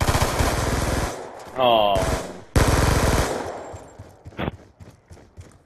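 Rapid automatic gunfire in a 1v1 shooting video game, loud bursts that stop and start, interrupted by a short electronic tone, with a voice briefly exclaiming.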